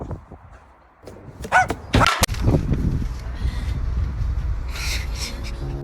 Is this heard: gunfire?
no